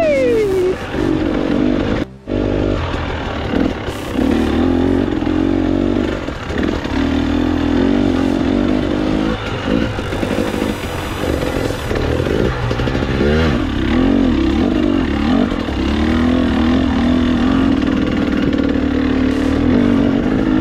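A motorcycle rolling slowly along a night road in Gifford Pinchot, its engine loud and steady with a low burbling idle, broken by a couple of short throttle blips and a brief sharp drop near the start.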